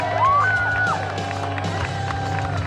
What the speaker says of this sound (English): At this height, the jumpers under canopy can definitely hear encouragement from the crowd.